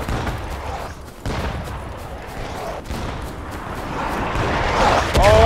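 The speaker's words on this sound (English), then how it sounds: "Oh, artillery." Dense, continuous battlefield gunfire with booming artillery blasts in the video game War of Rights, a Civil War skirmish, loud and close with few pauses.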